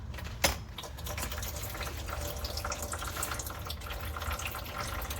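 Old, black transfer case fluid drains steadily out of a 2012 Ford F150 3.5 EcoBoost, giving a continuous close trickling pour with a brief clink near the start and no voices.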